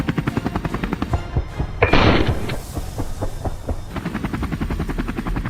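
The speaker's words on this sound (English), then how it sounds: "The helicopter swiftly maneuvers to close in on the prey" A helicopter closes in over fields while chasing a herd of wild boars, giving a steady loud rotor chop with rapid rhythmic beats throughout, swelling briefly into a louder roaring burst midway.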